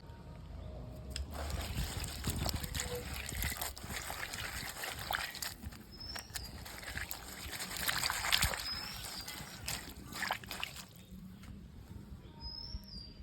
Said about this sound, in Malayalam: ബാക്കി നമുക്ക് വെള്ളത്തിനകത്ത് കഴുകിയെടുക്കാം നല്ലതായിട്ട്